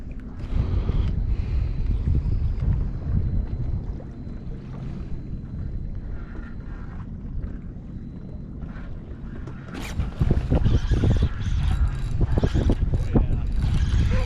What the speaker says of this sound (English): wind's blowing pretty good now out of the west, so we have a really fast drift